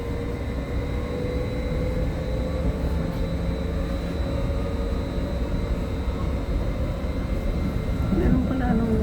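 Steady low rumble and rattle of a train in motion, heard from inside a passenger car on a commuter line near Millbrae and San Bruno, continuous and fairly loud throughout with faint talk beneath it.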